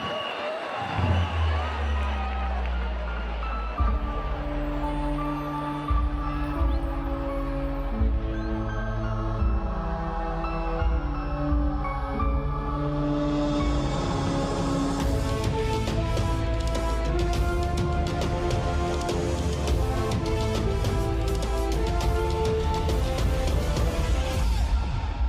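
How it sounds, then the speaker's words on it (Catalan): Music plays throughout at a carnival king presentation in Vinaròs, with crowd cheering and applause swelling in the latter half as the king is celebrated. "Un fort aplaudiment!"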